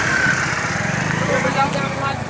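A motorcycle engine runs close by in Damoh, a steady throbbing putter heard under voices talking.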